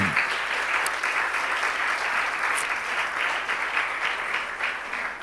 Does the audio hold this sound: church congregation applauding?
yes